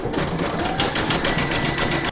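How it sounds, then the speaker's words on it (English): An embroidery sewing machine sews a satin stitch around the edge of a hooped design, giving a fast, steady mechanical whirr with rapid needle pulses, close and continuous, with no talking. "you're going to stitch round number 4, and that's going to do the satin stitch around the edge here"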